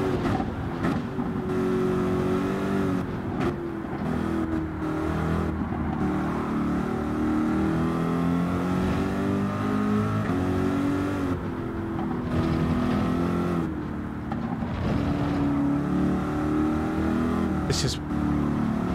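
A Corvette race car in Gran Turismo screams through a flying lap, its engine revving up and down through gear changes continuously while someone talks over it.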